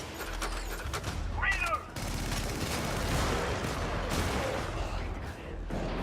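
Dense, continuous rumbling bursts of explosions and gunfire in the Helldivers video game, loud and sustained with a brief pause near the start.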